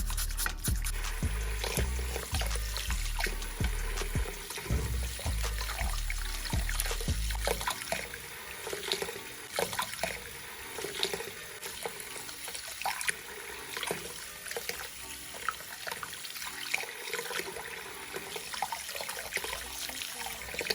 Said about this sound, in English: washing all that off. And I'm gonna brush as I rinse.